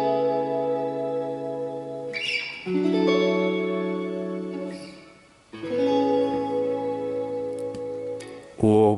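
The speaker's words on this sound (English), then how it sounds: "Shimmer reverb, which sounds like this." Sustained electric guitar chords through a NuX MG30's shimmer reverb ring into a bright, shimmering tail with high octave sparkle, two long phrases separated by a brief fade.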